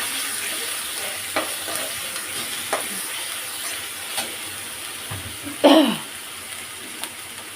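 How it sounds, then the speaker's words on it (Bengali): Chicken frying and being stirred in a pan gives a quiet, steady sizzle, with scraping stirs every second or so and one louder clatter partway through. "ছোটো একটা চিকেন রান্না করে ফেলি"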